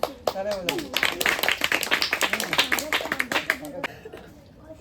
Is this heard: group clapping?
yes